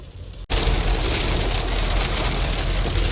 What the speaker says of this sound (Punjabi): ਦੇਖੋ ਮੀਂਹ ਕਿੰਨਾ ਪੈਣ ਦਿਆ